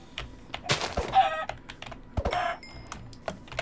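Minecraft Java Edition survival gameplay with a chicken clucking in short bursts, mixed with keyboard typing clicks and other game sounds, fairly close and clear with no talking.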